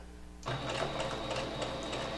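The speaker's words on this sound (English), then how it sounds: "The sewing needle, it's pushing it through." A home sewing machine stitches through fabric for a magnetic fishing game toy, its motor starting abruptly into a steady, close, rapid whirring and needle chatter that runs continuously.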